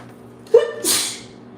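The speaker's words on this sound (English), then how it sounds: "I feel like I need to sneeze." A single close allergy-season sneeze: a short sharp inhale followed by a breathy explosive burst, then quiet.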